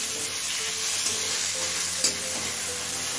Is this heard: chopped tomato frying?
yes